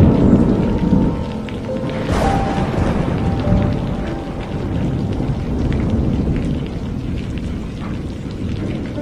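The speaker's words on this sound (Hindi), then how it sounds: "ये क्या इतनी तेज बारिश!" Heavy rain pouring steadily with a loud rumble of thunder, a continuous dense roar of downpour throughout with a thunder crack early on.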